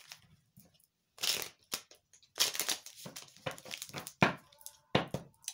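Tarot cards being shuffled by hand at close range, irregular bursts of riffling and slapping with short silent gaps between them, no talk.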